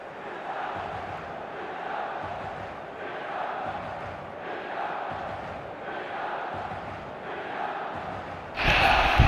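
Stadium crowd on match day in the eFootball video game, a continuous distant roar of many voices swelling and easing in waves, with a louder burst of noise right at the end.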